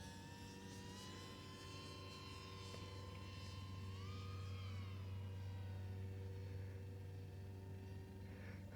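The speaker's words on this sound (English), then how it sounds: "the 1404 motors are pushing these 4-inch props and doing a pretty dadgum good job at it" Small quadcopter with 1404 motors spinning 4-inch props, cruising around a yard, a steady high whine of motors with slight pitch swells, fairly faint and continuous, no talk.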